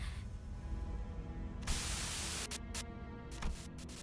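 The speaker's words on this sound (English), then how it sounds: "A sudden buzz of white noise breaks through the truck's silence." Radio speakers inside a truck in Limbus Company crackle with static: a low murmur of noise gives way to a sudden loud burst of white-noise hiss, then choppy on-off bursts as it cuts in and out.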